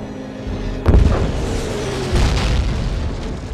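A massive artillery barrage of more than 2,000 guns firing on enemy trenches in the Winter War, heard as a loud deep boom followed by sustained rumbling, with a second heavy swell of detonations.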